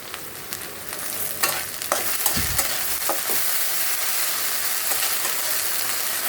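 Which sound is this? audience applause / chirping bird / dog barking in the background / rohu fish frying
rohu fish frying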